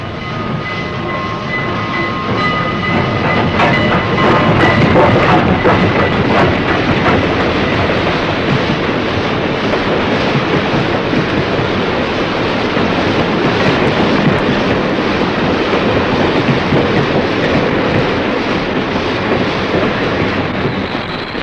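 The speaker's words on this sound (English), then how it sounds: "a train coming into the station" A train coming into a station rumbles steadily and loudly for the whole stretch, with rattling wheels and a few faint tonal squeals early on, and no voices.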